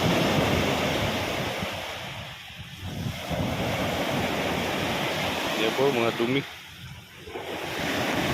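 Waves of a storm-swollen brown sea, churned by heavy rain and carrying debris and uprooted bamboo, rush and break continuously with wind noise, dipping twice before surging again; someone speaks briefly over the surf.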